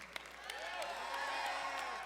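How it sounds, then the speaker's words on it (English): Audience applause with cheering and whoops welcoming the host onstage at a water summit event, a steady wash of clapping that swells and holds for two seconds while a voice speaks over it. "let's give a round of applause for Joel Green"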